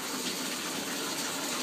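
Water runs into a baby's bath in a steady, soft gush from a tap, fairly quiet and even throughout, with no talking over it.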